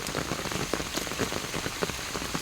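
Steady rain pattering on a surface, dense and close, with scattered louder drops; no voices.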